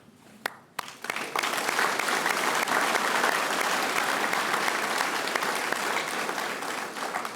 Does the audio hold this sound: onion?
no